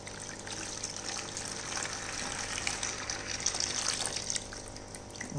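Steady gushing of saltwater aquarium water pouring into a bucket, continuous and fairly loud, with no talking.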